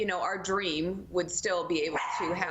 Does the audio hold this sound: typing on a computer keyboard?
no